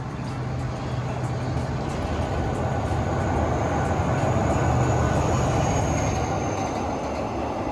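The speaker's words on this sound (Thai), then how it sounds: "เคลื่อนขบวนผ่านสะพานจุฬาลงกรณ์หรือสะพานดำนะครับราชบุรี" A KIHA 183 diesel train crossing the Chulalongkorn (Black) Bridge in Ratchaburi, a steady loud rumble of wheels and engine with rhythmic clicks over the rail joints, continuous throughout.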